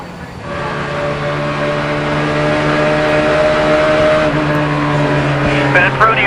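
In-car audio from NASCAR race cars at the 2004 Nextel All-Star Challenge during a crash: a loud, steady engine roar with strong harmonic drone holds throughout, close and dominant, with a slight surge near the end.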